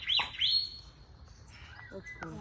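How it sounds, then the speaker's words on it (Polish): A bird in Australia sings bright, close chirping whistles in two quick phrases at the start, followed by fainter calls and tweets against quiet outdoor background. "Zobaczyliśmy ptaka."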